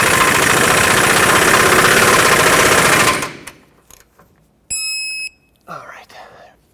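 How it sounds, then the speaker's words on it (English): A 5.4L engine oil pan mounting bolt on a 2009-2014 Ford F-150 being run down by a loud, steady power tool for about three seconds, then it stops, followed by a brief tonal beep and light clinks and handling. "Let's finish tightening this one up and then torque it."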